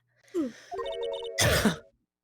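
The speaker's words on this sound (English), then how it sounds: "Cough." A single short cough, preceded by a brief throat sound and a few soft electronic tones, close and fairly quiet.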